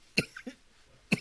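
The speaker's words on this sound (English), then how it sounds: "we can talk about my cough again" Two sharp coughs from one person indoors, the first near the start and the second about a second later, with faint breathy sounds between them.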